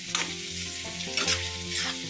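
Chopped vegetables with onion, tomato and green chilli sauté in a hot pan. A continuous loud sizzle is broken by quick stirring scrapes, with no voices.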